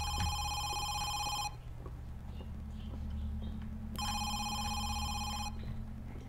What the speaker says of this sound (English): Is it not that phone that's ringing?